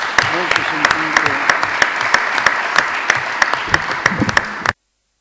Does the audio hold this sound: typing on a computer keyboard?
no